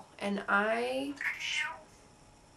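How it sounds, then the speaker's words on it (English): Pet cat meowing close by, two drawn-out cries in quick succession, with a speaker talking briefly around them. "that's my cat, by the way."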